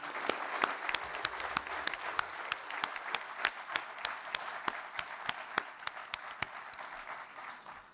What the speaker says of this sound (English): All are requested again to give a huge round of applause to them.